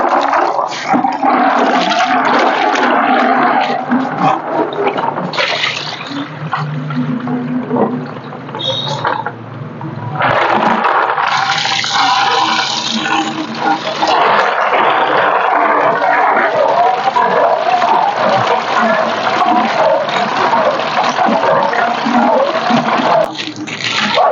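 Dusty ceramic rings and lava rock are rinsed in water for a new aquarium, with continuous loud splashing and rushing water throughout.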